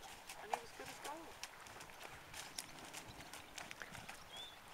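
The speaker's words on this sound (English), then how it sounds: "She trotted aimlessly round for about a quarter of an hour." A horse trots around on a loose lap, its hoofbeats coming as faint, light clip-clop taps scattered over steady background noise, with occasional voices in the distance.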